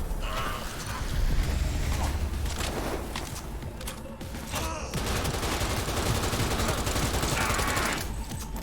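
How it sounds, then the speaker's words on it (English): Sustained automatic gunfire in the Cyberpunk 2077 video game, dense rapid shots and mechanical clatter filling the whole stretch at steady loudness, with a brief lull midway. "Dump an entire mag to kill someone."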